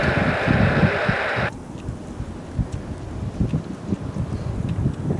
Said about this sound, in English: Well, that wind is brutal today.